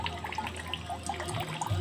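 Water runs from the first hose of a hydroponic system fed by a small DC brushless pump, making a soft, continuous trickle and splash over a low hum for a short moment.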